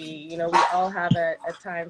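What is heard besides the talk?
dog barking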